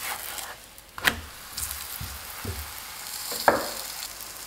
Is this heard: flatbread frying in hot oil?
yes